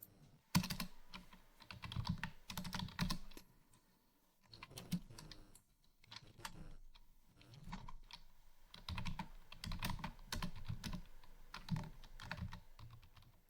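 Keystrokes on a computer keyboard while working in a terminal, irregular bursts of close, crisp clicks with short pauses between runs of typing.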